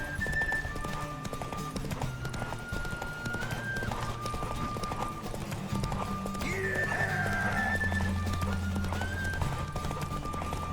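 Horse hooves clip-clop at a steady run with a horse whinnying midway, over a continuous musical backdrop, in the video game The Witcher 3.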